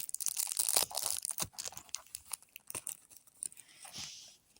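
A Brawl Stars card pack is torn open up close with crisp ripping and crinkling of the wrapper, coming in several quick bursts over a few seconds.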